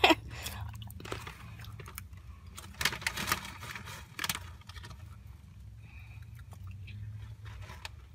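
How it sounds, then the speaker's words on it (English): Someone bites and chews a hard, crunchy apple close up, with several loud crisp crunches early on followed by quieter wet chewing. "Apple's pretty hard to chew."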